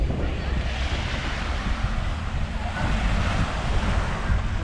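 Strong wind and rough surf at a busy public beach on Grand Cayman under overcast skies give a continuous, dense roar of wind buffeting and crashing water, steady and loud throughout with no clear breaks.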